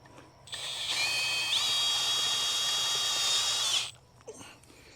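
A power drill drives a tech screw into the end wall of a Quonset greenhouse, a high whirring motor whine rising in pitch partway through, running steadily for about three seconds before cutting off, close and clear.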